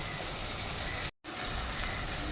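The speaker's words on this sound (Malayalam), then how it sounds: "ഇഞ്ചി വെളുതുള്ളി പേസ്റ്റും ചെറുതായിട്ട് മുരിഞ്ഞിട്ടുണ്ട്" Ginger garlic paste sizzling in hot oil in a pan for a Kerala fenugreek fish curry, a steady close crackling hiss broken by one brief silent gap.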